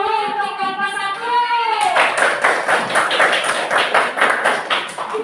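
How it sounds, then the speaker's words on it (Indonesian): Classroom applause for a student group in a school setting, with an adult voice talking at first, then rhythmic, steady clapping from many hands for several seconds. "Ayo kita beri tepuk tangan dulu untuk kelompok 1."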